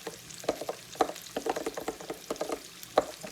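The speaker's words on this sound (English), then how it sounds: "and some sriracha. And just stir it up." A spoon stirs a sriracha mixture in a bowl for chicken and waffles, a close, soft run of quick scraping clicks and wet squelches repeating irregularly with no talking.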